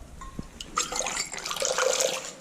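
Liquid pours from a cocktail shaker into a glass while mixing a Brugal Breezer rum drink with flair, a short trickling splash that builds and runs steadily for a couple of seconds at close range.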